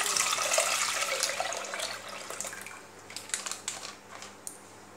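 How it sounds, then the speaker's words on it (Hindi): About two kilograms of milk pours into a small metal pot as a steady, close liquid splash that breaks into scattered drips and sloshes as it ends, with no voices. "चलिए मैं इसमें अब दूध डाल देती हूँ।"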